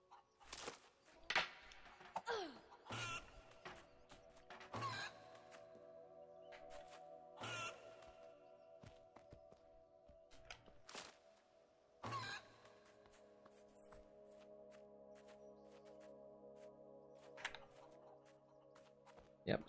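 Chickens in the video game Fable 2 make repeated clucking and squawking calls in short bursts over a steady game backdrop, fairly close and moderately loud.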